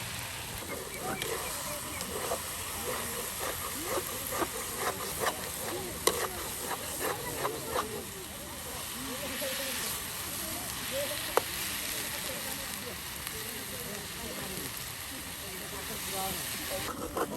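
Ash gourd leaves and dried chili fry in a pan over an outdoor village fire by a riverbank, with a constant crackling sizzle and stirring scrapes. Faint voices murmur underneath.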